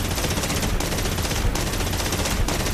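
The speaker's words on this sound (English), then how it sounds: "add any lead we need, guns, and fire" Machine guns of a BF-109 K-4 fighter in the DCS World flight simulator fire in a continuous loud rattling burst, dense rapid rounds with short dips, over engine roar.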